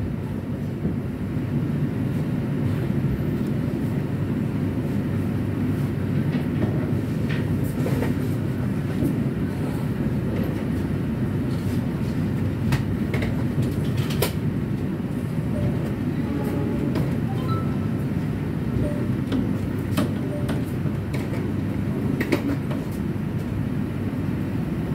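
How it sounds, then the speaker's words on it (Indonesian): The Argo Cirebon train pulls into Jatinegara station with a continuous low rolling rumble, scattered wheel clicks and metallic squeals heard from close by, and no talking. "Sekarang perjalanan kereta api Argo Cirebon sudah tiba di stasiun Jatinegara."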